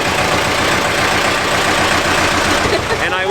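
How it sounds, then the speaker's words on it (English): Vintage U-boat design engine of a canal boat runs at a steady idle, a close, continuous rhythmic chugging with a constant mechanical drone throughout. "if you'd like to come on board, you can see the vintage engine"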